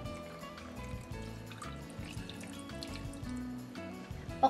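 Water pours steadily into a cooking pot of meat, tomatoes, soy sauce and tomato sauce, a continuous close trickling fill lasting several seconds with no speech.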